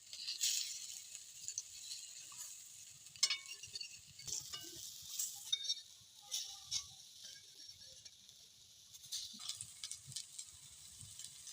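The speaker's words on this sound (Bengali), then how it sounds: "এভাবে হালকা করে ভেজে নেব।" Lentil fritters (dal bora) shallow-frying in a little oil in a pan give a steady close sizzle, with occasional clicks and scrapes of a utensil against the pan.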